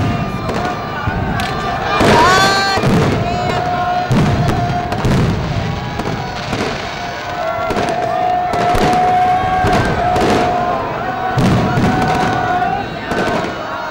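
Fireworks crackle and burst in dense, repeated volleys with whistling streaks over an illuminated Sri Darbar Sahib, while a crowd murmurs beneath the steady barrage.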